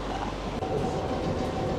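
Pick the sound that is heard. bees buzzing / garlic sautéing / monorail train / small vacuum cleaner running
monorail train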